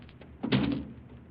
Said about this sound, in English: Close that door after you.